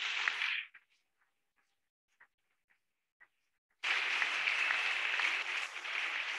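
A church congregation breaks into loud, dense clapping that sustains to the end, after a few scattered single claps and a near-quiet stretch.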